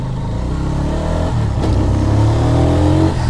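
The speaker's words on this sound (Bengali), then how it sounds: "দেখছেন আমার বাইকের গর্জনটা একবার জাস্ট দেখেন আপনারা" GPX Demon Rider motorcycle engine revving up close on a village road, a steady loud idle rising into a strong rev in the second half.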